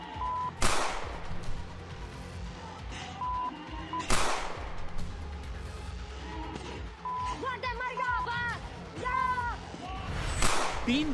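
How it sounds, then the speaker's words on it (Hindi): Three sharp gunshots crack out several seconds apart in news footage of a shooting, each a sudden loud burst over noisy background with scattered tones and voices. "तीन गोलियों की आवाज के बीच सबसे इंपॉर्टेंट फ्रेम उस वक्त का है जब कट्टरपंथी ने दूसरी गोली चलाई।"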